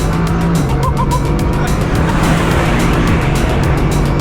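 A Bugatti Chiron Super Sport launches hard under launch control, its engine roaring loudly and steadily throughout with tire and road noise, close and dominant without any talk.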